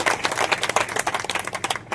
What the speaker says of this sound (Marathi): तर टाळ्या वाजवून सगळ्यांनी स्वागत करावं।